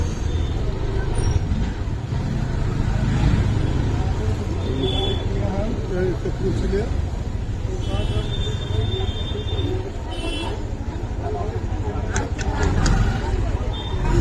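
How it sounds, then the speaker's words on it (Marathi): Loud, steady road noise of a tempo truck rumbling close by on the road at Malad fish market, Mumbai, with occasional brake hiss and traffic sounds and voices mixed in. "समोर काही समोरून टेम्पो येतो"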